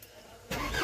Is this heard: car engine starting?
yes